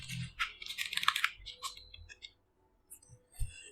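Fast clattering keystrokes on a computer keyboard entering a terminal command, a dense burst of close clicks for about two seconds, then a pause and a few final taps.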